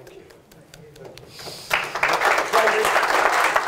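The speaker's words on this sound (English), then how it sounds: "So allow me to offer you a big round of applause on that." Applause breaks out in an audience at a council leader's presentation in Eastbourne, starting over a quiet room with a spoken thanks, then swelling into dense clapping that holds steady.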